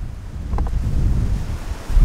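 Strong wind buffets the microphone outdoors at beehives, a loud continuous low roar with gusting swells and no speech.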